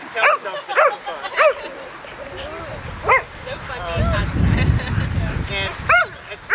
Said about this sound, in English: And you can tell the dogs are having fun.